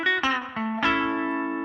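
Reverend Gristle 90 electric guitar with both pickups at full volume wired out of phase plays a few quick plucked notes, then one sustained chord that rings out with a thin, nasal, hollow tone and slight wavering, alone.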